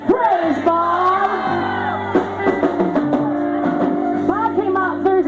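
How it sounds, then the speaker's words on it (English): A crowd at a live outdoor event shouting loudly together in unison, a sustained mass of raised voices filling the whole moment, close and energetic, with individual yells and whoops poking out. "Can y'all scream praise Bob? 1, 2, 3. Praise Bob"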